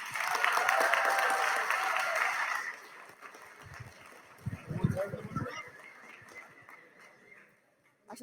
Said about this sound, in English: Can you get one more round of applause for our champions?